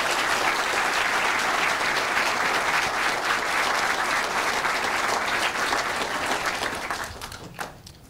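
Sustained applause from an audience after a speech, steady and full-bodied from many hands, tapering off in the last second.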